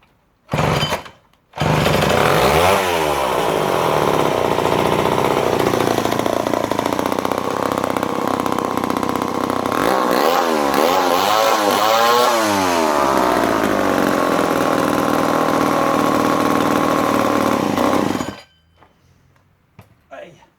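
A vintage Homelite C51 77cc chainsaw roars loudly close by after a brief start-up, its engine revving up and down repeatedly through a long steady run before cutting off abruptly near the end.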